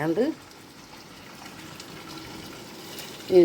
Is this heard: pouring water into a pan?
yes